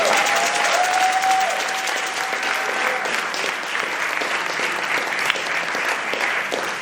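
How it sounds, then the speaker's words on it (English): An audience at a 99th birthday celebration for Dr. Adelaide Sanford breaks into loud, sustained applause that fills the room, with scattered voices and a brief whistle mixed in. "Can we give another round of applause?"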